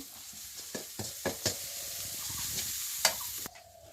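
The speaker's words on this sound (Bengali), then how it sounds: "এখন তেলের ভেতরে একটু কষিয়ে নিয়ে তারপর পানি দিবে" Spices being sautéed in oil in a pan for a village-style taro and fish curry, with repeated scraping stirs and soft sizzling, several sharp clinks against the pan, close and alone without talk.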